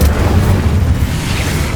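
A fire spell being cast in Hogwarts Legacy, a dense, rumbling low boom that holds steady and loud for the whole moment with no voices over it.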